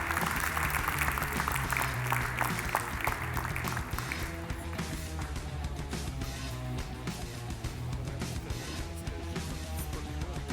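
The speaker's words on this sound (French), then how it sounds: "Une main d'applaudissements." A crowd applauding steadily for about ten seconds, loud at first and easing slightly toward the end.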